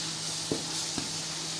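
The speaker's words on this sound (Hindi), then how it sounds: "ये आपको मैं तड़का लगाना बता रही हूँ।" Ginger and garlic tempering in hot oil for saag gives a steady bright sizzle, with two soft knocks of a utensil against the pan breaking through the hiss.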